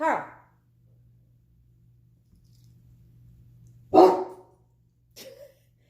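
A dog barks twice, loud and fairly close, with a long quiet gap between the barks and a low steady hum underneath.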